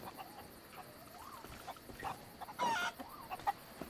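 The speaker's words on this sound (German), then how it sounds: "Ich habe ein Hühnchen im Käfig gefunden, da kann man ein Chicken mitnehmen." Chicken clucks from a caged chicken in the video game Sea of Thieves, a few short scattered calls over steady game ambience with one louder burst near the end.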